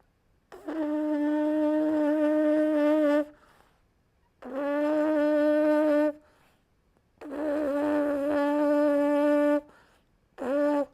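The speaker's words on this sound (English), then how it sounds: "I'm going to try to free buzz, and I want to see if I can get this middle part to be the part that buzzes" Lips free buzzing as on a brass mouthpiece, without the mouthpiece: four sustained, pitched buzzy tones, close and loud, each lasting a couple of seconds and separated by short pauses, with the last one cut short.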